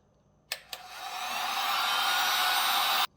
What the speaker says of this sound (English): The heat gun works great.